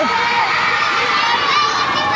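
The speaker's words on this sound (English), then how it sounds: "Oh, look at the crowd following now." A crowd of people, children shouting among them, follows along a town street in Bima, Sumbawa, with loud overlapping excited voices and cheering close by and continuous throughout.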